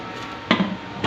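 A metal lid goes onto a pressure cooker holding meat for yakhni pulao, landing in one sharp clatter followed by a softer knock and a light tap, close and alone.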